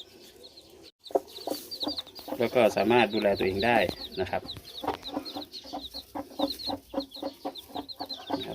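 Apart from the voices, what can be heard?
hen and chicks clucking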